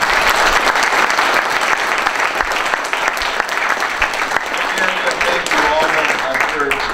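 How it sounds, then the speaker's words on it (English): Sustained applause from an audience at a talk at the Carter Center, dense clapping that stays loud and steady throughout, with voices mixed in. "So a round of applause for that."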